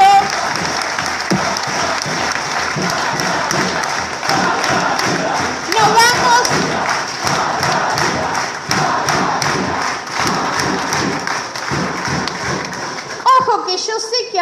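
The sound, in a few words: crowd applause at political rally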